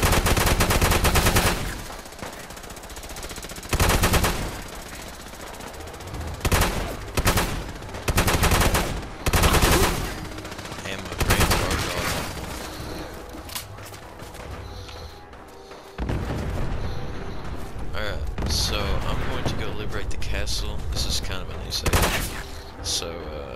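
Bursts of gunfire from a modded weapon in Fallout 4, a string of loud, dense shots and rapid volleys with short pauses between them, continuing through the stretch with a steady din of game noise underneath.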